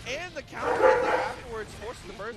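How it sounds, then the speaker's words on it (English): Excited dogs yipping and barking in a room, several short high yelps and whimpering barks close by, mixed with people talking. "The dogs are going hype."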